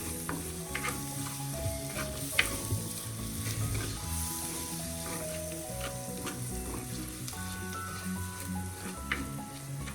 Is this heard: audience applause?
no